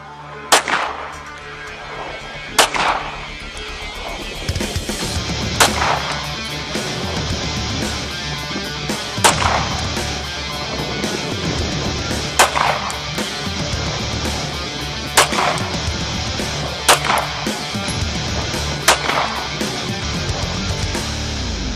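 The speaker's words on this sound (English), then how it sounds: "she's going to be shooting the speed sights, and we'll see what she thinks after she puts a few rounds downrange on target" Loud gunshots from a handgun fitted with speed sights crack at an outdoor shooting range, fired as spaced single shots every couple of seconds over a steady background of wind and range noise.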